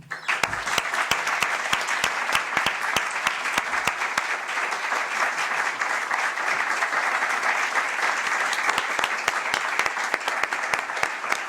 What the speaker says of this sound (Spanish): Ignacio, pido que te demos las gracias con un aplauso.